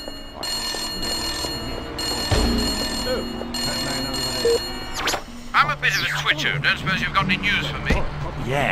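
A phone box telephone in the Destroy All Humans! 2 video game rings in repeated bell bursts near the Parliament House bridge. The ringing gives way to game characters talking over street ambience.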